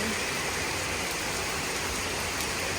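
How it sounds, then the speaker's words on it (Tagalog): Heavy rain pours steadily, a dense continuous hiss of drops drumming on surfaces with no letup. "Super lakas ng ulan."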